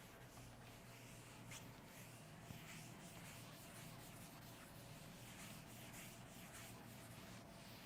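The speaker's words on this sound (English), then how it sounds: "Now I'm going to rub this part and we'll discuss." A duster or cloth rubs across a classroom board to wipe away writing, producing a steady, faint, scratchy swishing that continues without pause the whole time.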